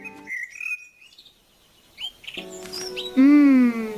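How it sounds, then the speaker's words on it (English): Colorful rainforest parrots give bright, sharp calls: a few high chirps early on, then a louder run of whistled, harmonic squawks toward the end, with no talking. "Wow, look at all the parrots."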